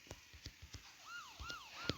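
A video-game siren wails in rising and falling sweeps, quiet and fairly distant, with a few soft thuds and taps beneath it over a couple of seconds.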